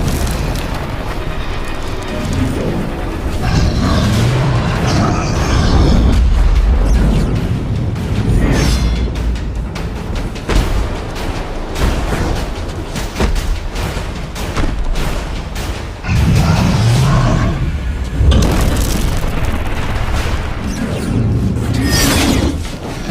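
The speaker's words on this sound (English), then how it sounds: "Each piece is protected by multiple latches that must be destroyed in order to remove it." Armor latches on an ogre are smashed in the video game Extinction, a loud, continuous wash of booming impacts, crunching debris and shattering hits with repeated heavy bursts.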